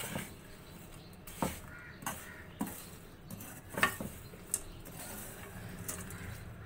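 Peanuts roasting in salt in a pan are stirred continuously, with faint scraping and a few light, irregular knocks of the spoon over a quiet background hiss.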